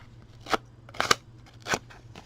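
A bladed distressing tool drawn along a paper edge, aging a handmade envelope, gives three short dry scratchy rasps, close and distinct against a quiet background.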